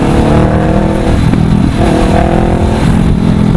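A Honda CBR500R motorcycle engine revs loudly and steadily at close range, a dense continuous roar with rising and falling throttle tones and no voices.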